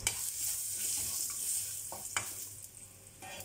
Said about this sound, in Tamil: இது போட்டுக்கிட்டு இது என்னென்னா நல்லா வறுத்துக்கோங்க